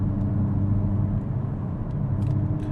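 Steady, close engine rumble and road roar from a 2022 Hyundai Kona N under way with its DCT gearbox, heard from inside the cabin with a few faint clicks over a low droning hum.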